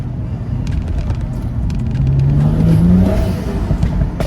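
A BMW M135i engine with a BMS aftermarket intake revs up with a deep, throaty rumble that rises and swells, heard from inside the car with some whirring intake noise.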